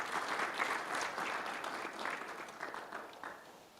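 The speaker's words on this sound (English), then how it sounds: "please join me in a round of applause for our panelists" An audience at a global healthcare summit in Rwanda applauds the panelists, a steady wash of clapping from many hands that stays fairly even throughout.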